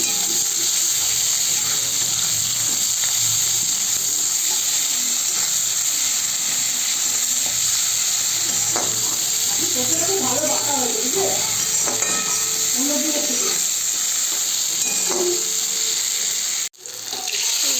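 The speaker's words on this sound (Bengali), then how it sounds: "পেঁয়াজটা এখন ভাজা হবে।" Sliced onion frying in hot oil with black cumin seeds and chopped ginger in a pan for a Bengali fish jhal, giving a steady, even sizzling hiss throughout with faint clinks and no voices.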